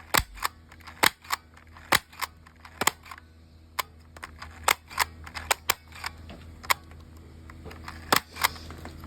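An X-Shot gel blaster toy gun fires in a quick irregular series of sharp close snaps and clicks, some shots spaced apart and others in fast bursts, with no talking.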